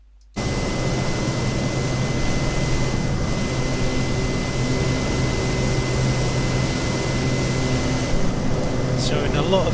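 Steady aircraft engine drone in the cabin during flight at roughly 10,000 feet in cloud, a constant loud broadband hum with a faint tonal whine, continuous and unbroken throughout.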